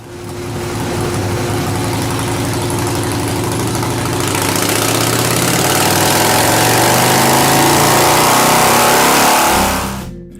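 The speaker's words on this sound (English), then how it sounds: "Another pull on the dyno shows us that we're pretty well dialed in." An S&S carbureted motorcycle engine, fitted with an S&S Super E or G carburetor, idles and then revs hard through a sustained pull on a dyno, loud and close, before cutting off abruptly near the end.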